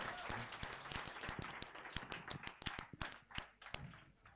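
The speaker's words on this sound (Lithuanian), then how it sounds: "aš noriu, kad mes griausmingais aplodismentais pasitiktume žmogų" An audience greets a guest arriving on a talk show with a burst of scattered, fairly faint hand clapping that rises and thins out over a few seconds.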